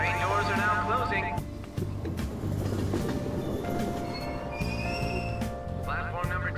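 A train pulls into a station in Persona 5 Royal, with a steady rumble and rolling clatter throughout, a platform chime and announcement tones overhead, and a person talking over it.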